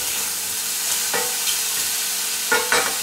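Cep mushrooms sauté in a pan with a steady, soft sizzle, broken by a few brief scrapes of stirring, close and with no talking.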